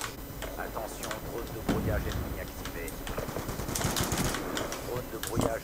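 Gunfire in a video game, rapid bursts of shots crackling continuously under someone talking.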